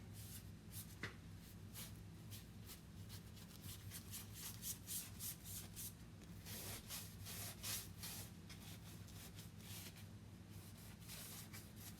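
A cloth rubs chalk paste into a wooden pallet board, giving steady, close scrubbing strokes in repeated bursts that run throughout with no talk.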